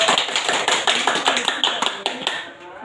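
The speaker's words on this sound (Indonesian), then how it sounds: "Kasih tepuk tangan terlebih dahulu." A classroom of students clapping hands together, a dense burst of many overlapping claps that rises steadily and then fades out near the end.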